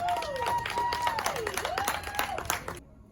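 An audience claps steadily at a parents' day celebration at a learning centre while a voice rises and falls over the applause, which cuts off abruptly just before the end.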